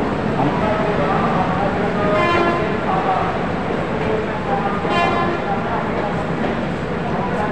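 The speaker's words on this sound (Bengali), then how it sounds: "12177 Chambal express just Howrah station ছাড়লো" Chambal Express 12177 pulling out of Howrah station: a steady, loud rolling rumble fills the whole stretch, with horn-like tones rising around the middle and again later, and a voice talking over the train noise.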